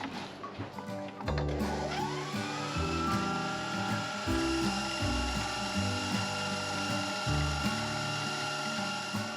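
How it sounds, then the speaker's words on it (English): An electric mixer whisk whips goat milk cream into butter with a steady mechanical whir, its motor pitch rising as it spins up and holding a droning hum with a rattling, ratchet-like churn. "we need to whip it even more to get butter"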